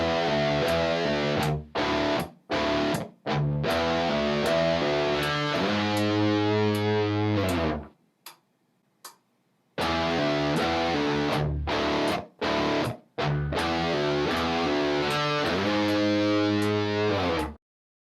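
A heavily distorted electric guitar plays a riff, with loud, close chugging notes and sustained chords broken by short rhythmic gaps. The phrase is played twice, separated by a brief near-silent stretch.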